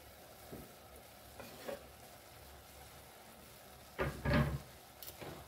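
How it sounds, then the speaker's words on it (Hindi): Chopped tomatoes going into a frying chickpea masala, a faint steady sizzle with a few soft scrapes of stirring and a louder clattering stir near the end. "तो इसमें हम ऐड करेंगे कटे हुए टमाटर।"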